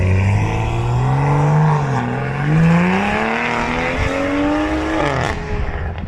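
A powerful car engine, said to make around 700 horsepower, roars loudly and close at a car meet, revving up and down with rising and falling pitch and a brief tire squeal near the end.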